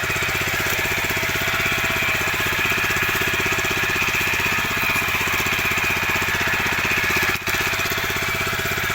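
Old Japanese mini rotary tiller tractor engine runs steadily and loudly at a constant idle-like chug, a continuous mechanical drone with no speech.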